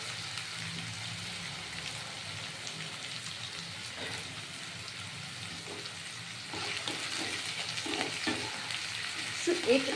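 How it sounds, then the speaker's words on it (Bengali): Mola fish chorchori cooks in a pan with spices, giving a moderate, steady sizzle and crackle while a utensil stirs and scrapes it now and then, close and continuous. "যতক্ষণ এটা ভাজা না হবে ততক্ষণ ওয়েট করতে হবে এটা ভাজা হোক"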